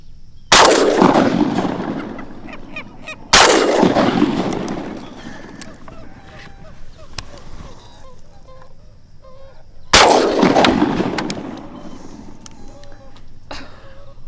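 Three loud, sharp shotgun blasts while hunting gallinules from a boat in Florida, spaced several seconds apart, each with a booming echo that trails off, and faint bird calls between them.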